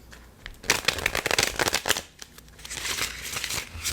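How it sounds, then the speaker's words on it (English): Tarot deck being shuffled by hand in two close, crisp bursts of riffling, a brief pause between them, with no talking. "I have shuffled them off screen. I'll do one more time."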